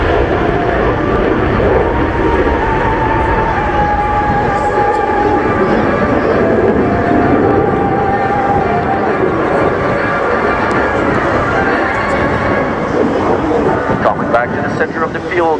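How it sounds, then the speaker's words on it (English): Polish Air Force F-16C Viper jet performing aileron rolls in an airshow display, a loud continuous roaring engine wash with wind buffeting, close and sustained throughout. "the pilot will initiate a series of aileron rolls to demonstrate the Viper's legendary maneuverability"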